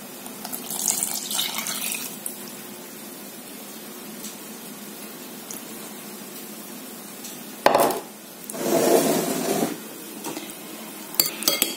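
Rock salt brine being poured into okra for an African-spiced sauce makes brief, close liquid splashes and trickles, with quiet pauses and soft kitchen clinks between them.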